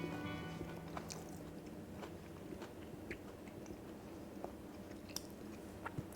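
Crispy fried oyster dipped in tartar sauce being bitten and chewed close up, soft crunchy chewing sounds repeating steadily against a low background hum, no talking.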